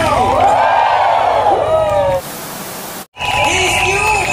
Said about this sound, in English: One big victory shout.